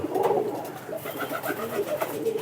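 Pigeons coo on a pigeon farm, soft throaty repeated coos overlapping close by in a continuous murmur.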